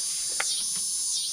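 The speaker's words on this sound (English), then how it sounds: "And listen to them katydids." Katydids chirp outdoors in a garden, a high steady insect drone with a few faint brief calls over it.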